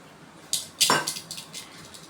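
Soya chunks are mixed with masala by hand in a vessel, producing a few sharp metallic clinks and knocks followed by softer scraping rustles, close and fairly quiet.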